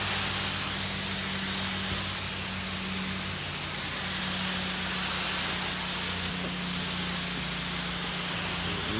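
A roof cleaning solution is sprayed onto a roof edge in a continuous, close hiss that holds steady for the whole stretch, with a faint hum underneath and no talk.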